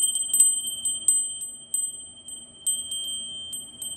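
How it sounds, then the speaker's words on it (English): A small bell rings during a spiritual healing session with a few light, high, thin strikes that fade out, soft and close in an otherwise quiet room. "Let's ring the bell."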